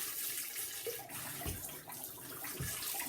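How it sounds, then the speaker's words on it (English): Three cups of water pour steadily into the jar of a Pampered Chef Deluxe Cooking Blender, a continuous close splashing rush with a couple of soft thumps, alone without talk. "And then I'm just going to fill it up with 3 cups of water."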